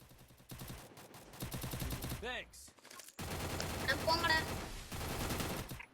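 Rapid automatic gunfire rattles in a shooter video game, dense bursts of close shots broken by brief pauses, with a falling whistling tone in the middle and a long loud stretch of firing afterward.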